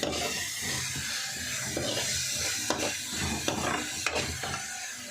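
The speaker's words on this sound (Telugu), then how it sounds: "కారం వేసిన తర్వాత బాగా వేగనిచ్చాలి" Chili powder frying in a pan gives a steady, close hiss of sizzling, with occasional scraping and stirring sounds, and no one speaks.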